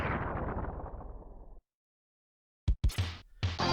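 A weapon blast explosion in the SNES game Mega Man X3 begins as a loud crackling roar that fades out into silence, followed by several sharp retro bursts of effects.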